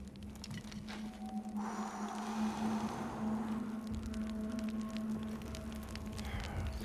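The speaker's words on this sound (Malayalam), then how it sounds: "കമ്പും കൊളിയൊക്കെ വാരിയിട്ട് കത്തിക്കുന്നുണ്ട് കേട്ടോ" A campfire of sticks and twigs burns in the Far Cry Primal video game, a steady soft crackle and patter over a low continuous hum, moderately quiet and heard alone.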